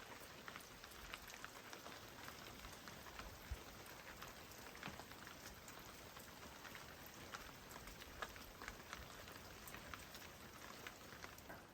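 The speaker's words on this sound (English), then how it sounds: "because it's still raining" Steady rain patters on an off-grid cabin, a soft continuous hiss with scattered drops, faint and unbroken throughout.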